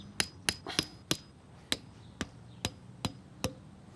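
Small pegs hammered into a garden lawn outdoors: nine sharp, fairly close knocks in an uneven rhythm, each a crisp strike with a short ring, separated by quiet pauses.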